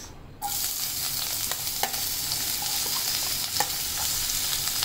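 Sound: onion and curry leaves frying in oil in non-stick pan

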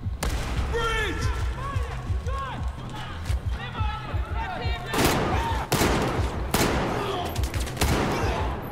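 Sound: revolver handgun gunfire in Battlefield 4 video game

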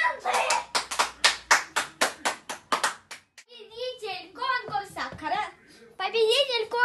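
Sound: audience applause at a children's concert

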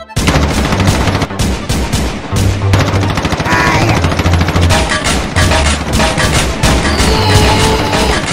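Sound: gunfire from a gun in the video game Roblox

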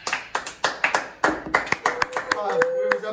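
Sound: group applauding

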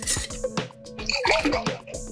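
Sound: warm water poured into a jar with dish soap

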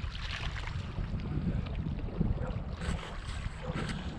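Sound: wind blowing

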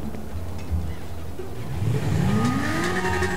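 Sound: motorcycle engine revving

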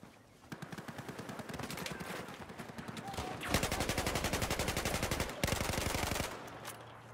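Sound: gunfire in a gunfight, from the video game Battlefield 4

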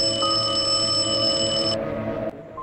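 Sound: phone ringing

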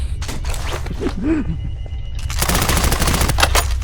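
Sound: gunfire in a video game

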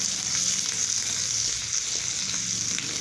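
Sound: frying green chilli thecha in peanut oil tempering

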